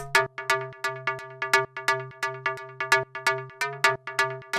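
A short, bright synth bass pluck repeating in a quick, hypnotic rhythm, each note snapping in and decaying fast, with no other sounds.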